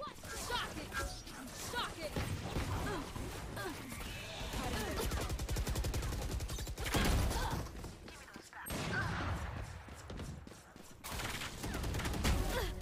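Sustained bursts of Ares machine gun fire from the Valorant shooter game, dense rapid rattling that persists throughout, with loud surges and a short gap, while a player talks excitedly over the shooting.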